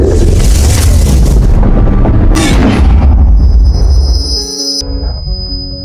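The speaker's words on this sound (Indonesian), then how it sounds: "untuk kedua kalinya amunisi mengenai lagi tank Nikolai" A tank shell strikes a tank in a war film battle scene, a loud close explosive boom with a long rumbling tail, followed by a second blast, then fading into a ringing, tonal aftermath.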